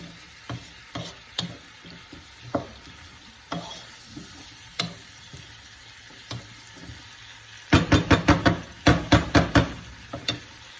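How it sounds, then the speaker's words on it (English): Vegetables sautéing in a pot for a hearty vegetarian soup soffritto: a soft sizzle under repeated utensil scrapes and knocks, sparse at first, then a quick loud cluster of stirring clatter. "So when you're putting that and soffriering all the vegetables, it's like it's coating all the vegetables"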